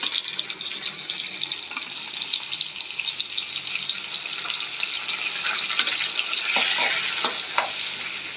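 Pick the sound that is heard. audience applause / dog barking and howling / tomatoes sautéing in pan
tomatoes sautéing in pan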